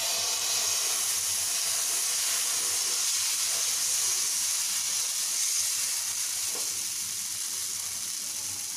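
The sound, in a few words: wheat flour dosa batter sizzling on an oiled griddle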